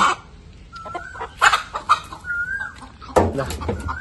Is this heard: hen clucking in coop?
yes